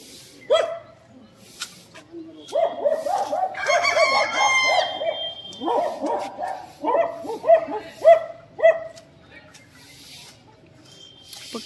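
Chickens cluck and a rooster crows nearby, with a dog barking and people talking in the background.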